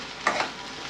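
Food being stirred in a cooking pan, a brief scrape or two of the spoon over a steady low sizzle, close and fairly quiet, with no talking.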